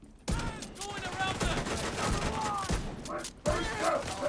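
Rapid bursts of gunfire from a first-person video game shooter, loud and dense with weapon reports, a brief pause near the middle, then firing resumes, with game voice and effects mixed in.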